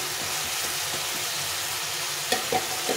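Bengali-style spice masala frying in a pan, a steady broadband sizzle with a few soft stirring scrapes near the end, close and fairly loud.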